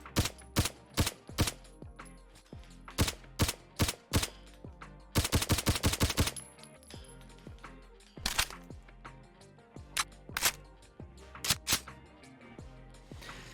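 A suppressed PPS-43 submachine gun fires in Fallout 4 in sharp, close bursts: quick strings of rapid shots with short pauses between them and one longer sustained burst near the middle, each shot trailed by a short mechanical clack.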